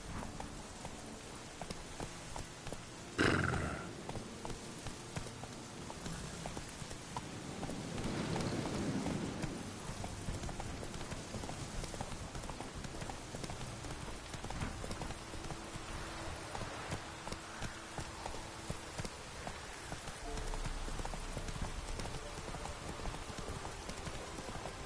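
Roach, a horse in The Witcher 3, moves along with steady clip-clop hoofbeats through a dense, rain-like wash of game ambience, with one sharp knock near the start.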